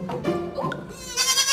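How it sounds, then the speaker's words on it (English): A baby goat bleats in a series of short, close, wavering cries, loud and alone with no talk. "This little goat named Mocha was starting her first day of middle school."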